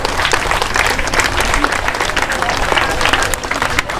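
An audience at a Hindi anti-drug awareness stage play applauds loudly and steadily, dense clapping from a large crowd filling the whole stretch without pause.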